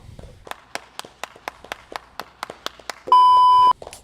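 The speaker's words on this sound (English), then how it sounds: "Let's give a round of applause for Drew," Slow, evenly spaced hand claps from a small podcast group after a season of one catch, about a dozen sharp strikes, then a steady electronic tone near the end.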